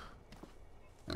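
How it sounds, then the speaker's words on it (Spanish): Pigs in the video game Planet of Lana give faint, short grunting oinks and snorts, a couple of quiet bursts with a louder one at the end. "Por aquí hay cerdos."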